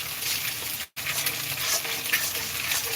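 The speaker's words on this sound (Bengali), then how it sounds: "পরিমাণ মতন মশলাটা ভালো করে কষিয়ে নেব" Spices for tarka dal frying and being stirred in a pan, a steady loud sizzle with scraping stir sounds, briefly cut out for a moment, with no talking.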